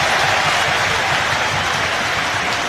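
A large football stadium crowd at a Derby County versus Manchester United league match applauds loudly, a dense, continuous roar of clapping that stays constant throughout without letting up.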